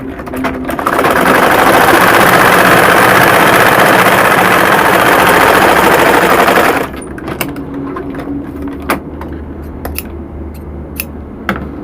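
A sewing machine stitches loudly and steadily at close range for several seconds, then stops, leaving scattered clicks and light handling noises.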